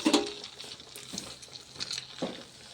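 A vada frying in hot oil on a gas stove gives a steady, soft sizzle with faint crackles and a few brief stirring clinks, close and fairly quiet, with no talking.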